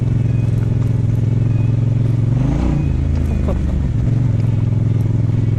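GT 07 enduro motorcycle engine droning steadily up close, its low tone rising briefly as it accelerates midway, with continuous mechanical rumble throughout.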